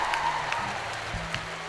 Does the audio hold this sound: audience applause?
yes